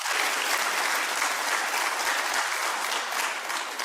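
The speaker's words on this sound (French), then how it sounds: "Applaudissez-le aujourd'hui en signe de louange." A church congregation applauds in praise, steady dense clapping from many hands filling the whole stretch at an even, loud level.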